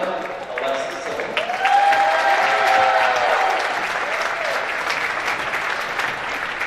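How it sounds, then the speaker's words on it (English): A crowd applauds senior players at an NCAA women's basketball game hosting Kalamazoo, with steady clapping throughout and a brief tonal sound ringing out over the applause partway through. "Fans, let's have one big round of applause for our handful of seniors"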